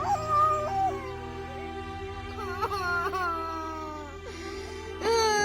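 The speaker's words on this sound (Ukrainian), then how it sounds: "хтось плаче, чуєте? Хтось плаче." A high, wavering wail rises and falls several times, like someone crying or sobbing in a children's theatre studio play, fairly clear against a quiet background.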